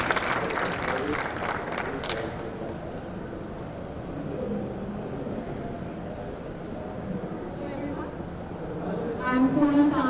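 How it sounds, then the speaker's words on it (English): Audience applause at a health tech pitch competition, a dense burst of clapping at first that settles into a lower wash of crowd noise, with a voice entering near the end. "A round of applause, please."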